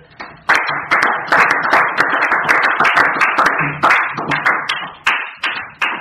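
A church congregation claps together in sustained, rhythmic applause, loud and close, with sharp repeated hand strikes filling the space throughout.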